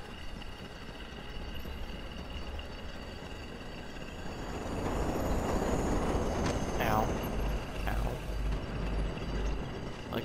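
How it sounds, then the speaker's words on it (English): Elevated L train in the Watch Dogs video game rumbling past, a low continuous rolling roar that swells louder midway with rattling and squealing metallic tones, speech faintly mixed in. "Like I said, the L trains, they're really dangerous"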